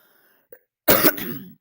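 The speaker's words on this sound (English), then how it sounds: "I will have to do some coughing under this stream" A single close, sharp cough with a short rasping tail follows a faint click in otherwise quiet surroundings.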